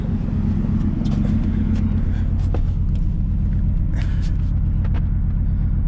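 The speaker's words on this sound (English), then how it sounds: "But this truck is on, like, it's running really rough" An old Ford truck engine idles roughly and loudly up close at a spring start-up, a steady low rumble with uneven knocking pulses throughout.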